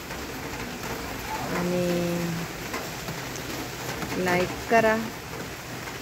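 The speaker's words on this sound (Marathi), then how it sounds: "वारं नाही काय नाही, एकदम निहार पाऊस चालू आहे बघा" Steady, windless rain falls outdoors in a village garden as a continuous soft hiss throughout, with someone talking over it and a bird cooing faintly in the background.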